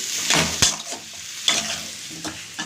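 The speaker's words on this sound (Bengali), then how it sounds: "এবার ভালো করে মশলাটা কষিয়ে" Masala with Kashmiri chilli is stirred and fried in a pan for chana masala, giving a steady soft sizzle broken by several scraping strokes of a spoon against the pan, close up, with no talking.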